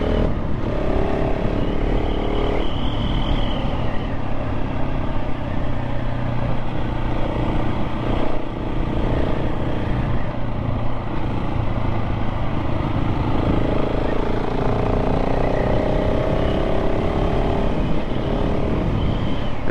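A 2024 KTM 690 SMC R motorcycle engine under way on narrow rural roads past farmland, a loud continuous onboard drone that rises and falls with the throttle.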